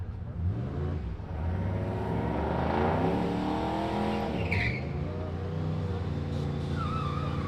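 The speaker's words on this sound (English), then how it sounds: "A couple of pickup trucks coming down the water box." Pickup trucks race down a drag strip through the water box at a Southeast Street N Yeet event, their engines in a loud, sustained roar that swells and revs, with a brief tire chirp midway.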